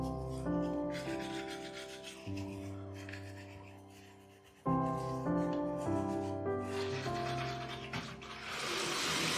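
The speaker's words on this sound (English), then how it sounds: "don't forget to brush all of your teeth, not just your favorite ones, or not just the ones you like" Steady scrubbing of a toothbrush with tooth powder, a close, rhythmic rasping that runs for several seconds, pauses briefly, then resumes with brisk back-and-forth strokes, no talking.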